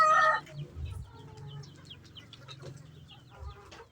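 Roosters cluck in a short, scattered series of close, soft calls, opening with a louder squawk and continuing as irregular low clucks in a quiet yard.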